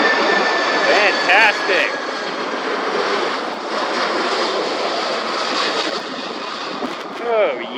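KC-135 jet engines roar steadily as the aircraft passes directly overhead near Hartsfield-Jackson Atlanta International Airport, a loud, sustained broadband rush lasting the whole stretch, with people talking and exclaiming over it.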